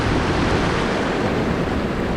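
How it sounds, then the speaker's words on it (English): Ocean surf washes over sand and rocks on an Oregon shore, a loud, steady roar of broken waves with wind buffeting the microphone, continuous and with no talking. "So when the waves come in, let it go back."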